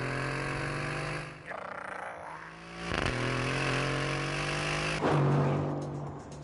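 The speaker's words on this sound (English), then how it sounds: "in an AMG, this engine doesn't make this noise." The Aston Martin Vantage engine in The Grand Tour video game holds a loud, sustained drone, dips and swells around the middle as revs shift, then climbs again near the end.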